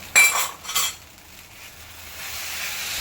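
A spoon clinks and scrapes against a pan twice as a sugar mixture is stirred over low heat, with a soft sizzle continuing underneath. The sound is close and fairly quiet.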